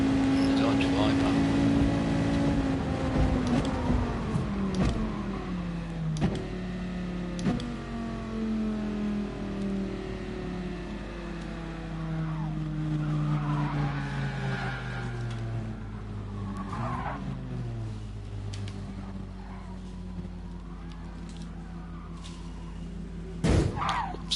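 A Dodge Viper races in a PS4 driving game, its engine droning and shifting pitch up and down with tire squeals and skids, while a player talks over it throughout.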